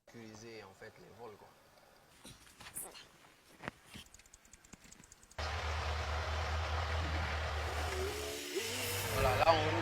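Homemade car built in Guinea driving under heavy load: after a stretch of talk and handling noises, a loud, steady engine drone and road rumble cut in and hold, rising slightly toward the end, with voices heard earlier.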